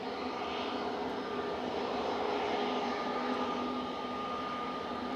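An airliner landing at Manchester Airport with bucket-type thrust reversers deployed, producing a steady, loud whooshing roar with faint engine tones running throughout, without any speech.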